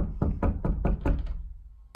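Rapid series of about seven firm knocks on a door, near and loud, followed by a brief fading tail, with no voices.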